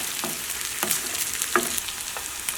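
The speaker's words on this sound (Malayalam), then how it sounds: "മഞ്ഞൾപ്പൊടി നന്നായിട്ടൊന്ന് മൊരിയട്ടെ" Turmeric powder frying in hot oil with onions, giving a soft, steady sizzle with a few faint stirring clicks, quiet and close, no talking.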